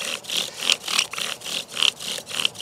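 Rhythmic back-and-forth rasping of a bow drill spinning against pine wood into an already burned hole, steady strokes about four per second, close and fairly loud.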